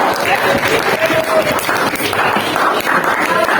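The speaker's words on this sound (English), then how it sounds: "Let's give a big applause to Mira and Roman." Audience applause for Mira and Roman at a senior high school event, a dense steady wash of clapping from a crowd that holds at full loudness throughout, with voices mixed in.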